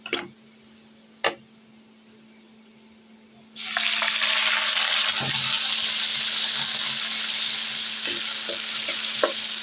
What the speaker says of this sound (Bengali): এই যে আমার পেঁয়াজটা ভাজা হয়ে গেছে, এখন আমি এর মধ্যে অল্প একটু পানি দিব।